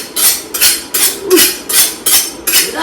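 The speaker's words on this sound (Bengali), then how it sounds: "তোমার এটা আমি একটু চাকুটা ধার দিয়ে দিই" A steel kitchen knife honed for cutting beef, six brisk metallic scraping strokes in an even rhythm, close and bright, with no talk.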